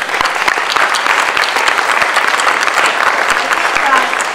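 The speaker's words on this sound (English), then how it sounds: "A round of applause for everybody." Audience at a panel discussion during a Bhangra arts event breaking into sustained applause, a dense wash of many hands with a few sharper nearby claps standing out.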